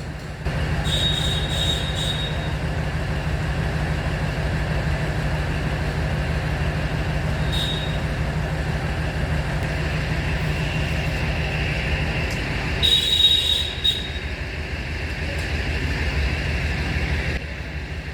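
A train arriving at Kapurthala railway station in India rumbles along the rails with a steady rolling clatter, and wheels squeal sharply now and then. It is loud and close, with no talking.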